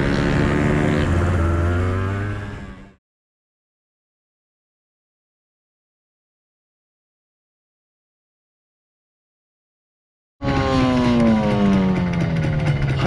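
Honda NSR250R MC28 two-stroke motorcycle running in on a race circuit, a loud buzzing engine with rising and falling pitch, cutting out to silence for several seconds before returning just as loud.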